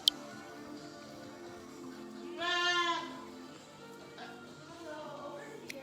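Show goats on a farm bleat at moderate distance, with one clear drawn-out bleat near the middle and fainter calls later, over quiet background noise.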